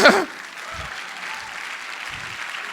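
A church congregation at a worship service applauding, a short burst of clapping that fades into a low murmur of the crowd.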